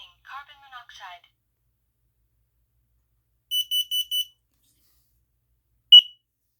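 A smoke and carbon monoxide alarm sounds four short, quiet electronic beeps followed by one louder beep, its horn muffled by a finger, after a brief soft synthetic voice announcement.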